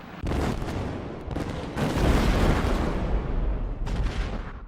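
A massive, rumbling blast of broadband noise from the 1947 SS Grandcamp ship explosion at Texas City, Texas, swelling and roiling for several seconds, deep and loud, with no voices.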